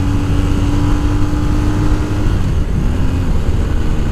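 Engine of a 2020 BMW R1250 R motorcycle holding a steady, droning tone that then drops and shifts pitch as the revs change, loud and close with no talking.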